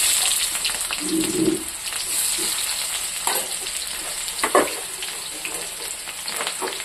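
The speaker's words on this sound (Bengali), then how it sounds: "কড়াইয়ে তেল গরম হয়ে গেছে, এখানে দিয়ে দেবো পেঁয়াজ" Onions hit hot oil in a kadai with a soft, steady sizzle and a few stirring scrapes and knocks, fairly quiet and without voices.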